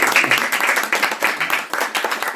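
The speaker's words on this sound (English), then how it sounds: "Give him an applause for that." An audience at a healthy-lifestyle talk in Chicago breaks into applause, close, bright clapping with a loose uneven rhythm and small surges, filling the whole moment.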